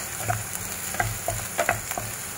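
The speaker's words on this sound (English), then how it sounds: "I'm cooking filling for spring rolls and here are chopped onion and chopped garlic with some carrot" Chopped onion, garlic and carrot for spring roll filling frying in a pan, with a steady close sizzle broken by several soft stirring scrapes and taps spaced through the short stretch.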